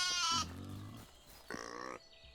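Farm animals in the Medieval Dynasty game give two short grunting, bleating calls, each under a second, with a quieter low murmur between them, close and alone without talk.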